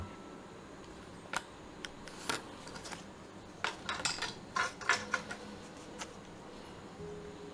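Scissors snip through folded origami paper in a handful of light, crisp cuts, scattered at first and then clustering into a quicker run, close up and quiet with no voices.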